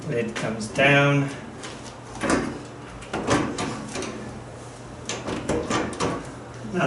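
A cyclone dust collector lid comes down onto a barrel in a workshop with a few hollow knocks and clunks, heard among frequent talking.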